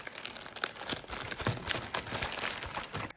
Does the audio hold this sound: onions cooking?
no